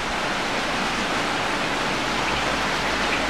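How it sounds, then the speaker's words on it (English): Rain falling outside makes a steady, even hiss with no gaps, a soft continuous wash throughout. "It's raining."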